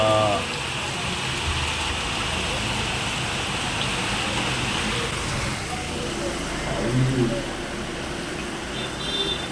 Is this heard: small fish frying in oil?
no